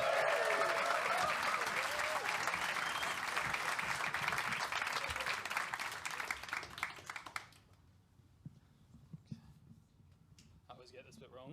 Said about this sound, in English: Put your hands together and give a much huger round of applause for first act of the second half